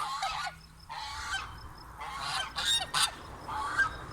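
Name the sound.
Guinea geese honking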